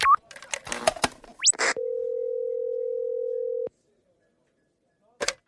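A telephone call being connected: quick dialing beeps and a rising chirp after brief talk, then a steady two-second tone that cuts off, followed by silence and a short burst of voice.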